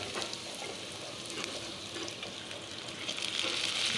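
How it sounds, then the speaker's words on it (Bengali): Potatoes frying in a pan with Malabar spinach leaves just added give a soft, continuous sizzle and hiss that swells slightly toward the end, heard alone with no voices. "আলুটা কষে নিয়ে এখন পুঁইশাকগুলো দিয়ে দিলাম।"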